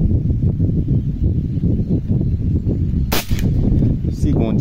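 An R8 .25 (6.35 mm) air rifle fires a heavy slug with one sharp crack, close and loud, over a steady low background rumble, with a brief ringing trail afterward.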